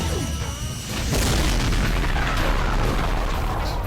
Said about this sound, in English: Exploding demon guts is good.